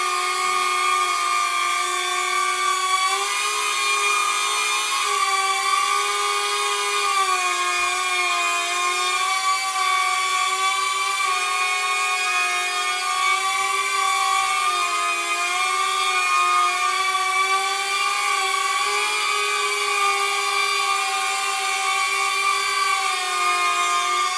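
Small propellers on a DJI drone whine and buzz loudly and steadily 10-15 centimeters away, with prop guards fitted, a high multi-toned drone holding level throughout.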